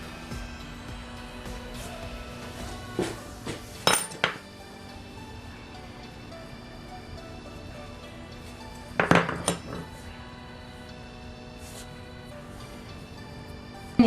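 A fettling knife scrapes and picks excess clay from a ceramic slab, quiet close work under low room hum, broken by a few sharp clicks and taps around the start and middle and again at the end.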